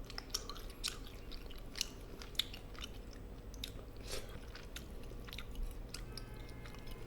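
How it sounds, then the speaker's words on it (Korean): Braised mackerel with aged kimchi is being chewed close up, a steady run of soft, moist bites and small crunches over a low background hum, with no talking. "장가시를 잘 갈라 먹어요."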